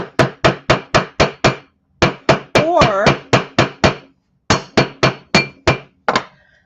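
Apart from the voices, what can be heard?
hammering a sterling silver ring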